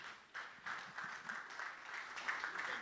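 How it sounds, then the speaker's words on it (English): A short burst of polite applause from the audience at a business networking dinner greets a speaker, scattered claps sounding fairly faint and distant throughout. "Let's please give him a round of applause."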